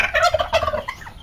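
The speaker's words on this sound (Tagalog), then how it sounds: "nandito lang yung aking mga alagang pabo dito" Domestic turkeys roaming a banana farm in the Philippines gobble loudly and close, a rapid burst of warbling calls fading into quieter trailing notes.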